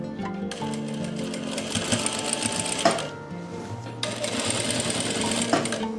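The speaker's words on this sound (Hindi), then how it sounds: "बैक में से आपने स्टार्ट करनी है सिलाई" Sewing machine stitching a puff sleeve, starting the seam from the back, steady close whirring runs broken by a brief pause midway, alone without talk.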